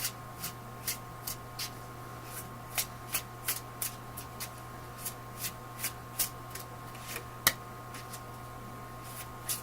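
A deck of tarot cards is shuffled by hand, close and fairly quiet, making a steady series of soft riffling snaps with brief gaps between them and no talking.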